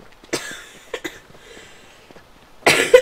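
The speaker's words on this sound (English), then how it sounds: "Coughing is literally the worst." A person gives several sharp coughs, a couple of quick ones early, then a louder, longer burst at the end, close and alone against near silence.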